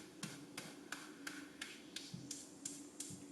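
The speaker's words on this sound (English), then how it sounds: "it becomes a hi-hat again." A crisp, synthetic hi-hat from the Korg iMS-20 iPad synthesizer ticks in a steady, even rhythm, about three hits per second, bright and thin with a faint low hum underneath.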